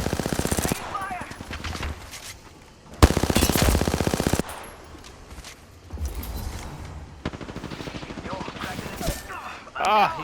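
Video game gunfire in several loud close bursts of rapid automatic shots, separated by quieter gaps with fainter mechanical sounds.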